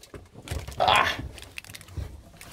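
A crunchy snack being bitten and chewed up close, with one sharp crunching burst in the middle and softer chewing before and after.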